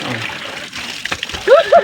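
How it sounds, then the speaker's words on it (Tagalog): Fresh water splashing around someone bathing, with short splattering bursts over a low wash of water, and a brief voice-like tone near the end. "parang ayaw ko nang tumigil sa pagligo dito. Kasi yung tubig ay fresh na fresh"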